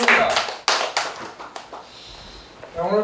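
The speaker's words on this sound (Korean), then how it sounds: "박수로 영광드립니다." Hands clap at a Korean Christian prayer rally marking UN veterans' day: a few loud, separate claps near the mic, followed by quieter scattered clapping, with a voice speaking over it.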